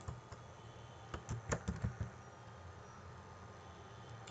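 Quiet clicking of keys on a computer keyboard, a short burst of several taps clustered in the middle with sparse single strokes around it, close and soft with no voices.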